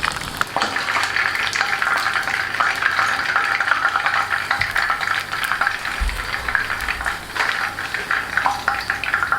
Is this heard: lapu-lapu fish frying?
yes